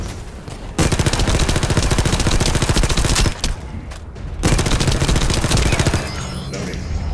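Rapid automatic gunfire from a sci-fi looter-shooter, The First Descendant, fills nearly the whole stretch in dense, loud bursts with two brief pauses, under faint game sounds.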